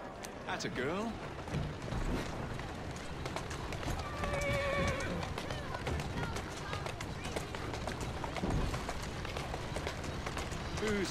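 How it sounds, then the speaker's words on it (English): A horse in the video game Assassin's Creed Syndicate, with steady clip-clopping hooves and a loud whinny near the start, sounding close against a busy in-game background, with some talk. "Who's a good horse?"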